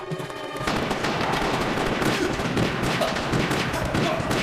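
Dense gunfire fills an ambush scene from a Turkish TV series, a rapid barrage of loud, overlapping shots that starts abruptly and continues without pause to the end.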